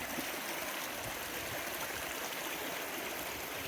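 Shallow creek water in Texas Hill Country flows and splashes steadily around someone wading down its middle, a continuous close rushing babble with no talk.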